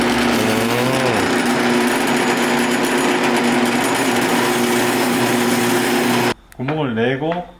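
A power drill bores holes into a BMW E34 cup holder part with a steady, loud high-pitched whine for several seconds, then stops as a voice speaks close by.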